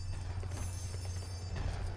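Horse hooves clip-clop in the video game Lego Worlds, a steady run of light, regular hoofbeats sitting over a constant low hum for about two seconds, with no talking.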